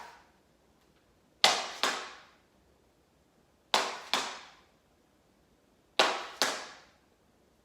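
Tap dance shoes strike a hard floor in three pairs of crisp brush-and-scuff steps, each pair a sharp double click with short pauses between, close and clear in a quiet room.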